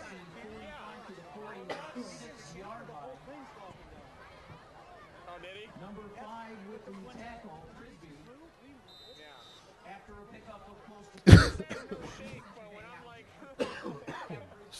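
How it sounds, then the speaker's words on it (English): Someone coughs sharply once amid soft background chatter and talk at a football game in cold air, followed by a few quieter throat sounds. "This cold air whipping in here is kicking up a cough on me here."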